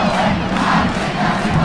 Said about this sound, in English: we got the I Believe chant going, and it actually sounded good this time